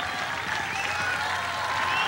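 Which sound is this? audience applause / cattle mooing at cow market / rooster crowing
audience applause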